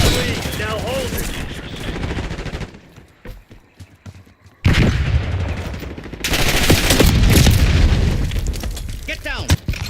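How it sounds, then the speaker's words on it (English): In RoboCop: Rogue City, a flashbang grenade goes off with a loud, sharp burst, followed by heavy gunfire and booming blasts, while game voices shout over the action. "Flashbang in."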